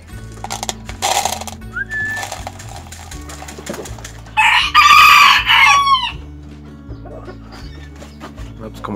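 Hens cluck over a steady rhythmic backing beat, then a rooster lets out a loud, drawn-out crow in the middle of the clip.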